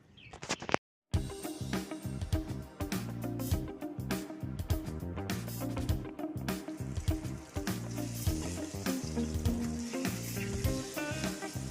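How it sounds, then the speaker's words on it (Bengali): Fish curry with eggplant and potato cooking in a pan, a steady sizzle and bubbling with clinks of utensils, close and continuous after a short silent gap at the start. "তো বন্ধুরা তরকারিটা বসিয়ে দিয়েছি বেগুন আলু দিয়ে মাছের তরকারি"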